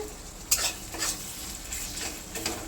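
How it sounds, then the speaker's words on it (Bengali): Onion and tomato fry in a pan on the stove, giving a soft, steady sizzle broken by a few scraping stirs of a spoon or spatula close by, with no talking. "টমেটোটা দেখো অনেকটাই ভাজা ভাজা হয়ে গেছে"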